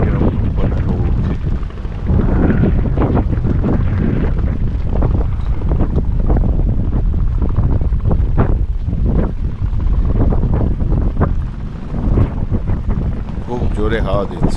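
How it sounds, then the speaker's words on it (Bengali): Strong sea wind buffets a boat on open water under cloudy skies, a loud continuous roar with gusty microphone rumble running throughout, while people talk over it. "খুব জোরে হাওয়া দিচ্ছে"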